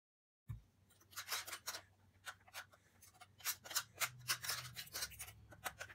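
Dry almonds being ground into powder, heard as a run of short, crisp grinding and scraping bursts close by, irregular and fairly quiet, starting after a brief silence.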